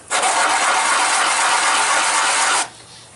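A die press forces a metal ring down, giving a loud, continuous ratcheting grind for about two and a half seconds before stopping abruptly.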